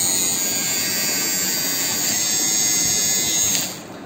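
Dingling RF 609 electric hair clipper running with a steady high-pitched motor whine, loud and close, holding constant before dropping slightly near the end.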